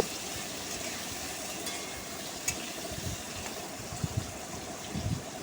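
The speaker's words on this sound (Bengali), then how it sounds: "আলুর সাথে পেঁপেগুলোকেও আরও কিছুক্ষণ এভাবে ভেজে নেব" Potato and papaya pieces fry in a little oil in a pan, a soft continuous sizzle punctuated by occasional light knocks and stirring scrapes, close by, with no talk.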